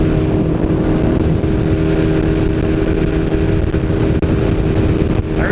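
An old 1980s Suzuki motorcycle engine held at high revs while riding, a loud, steady, buzzing drone that stays constant throughout with no voices.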